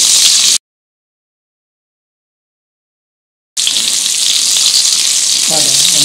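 Sausage fries in a pan until golden, a loud close continuous sizzle with crackling spatter, cut by a few seconds of total silence before the hiss returns.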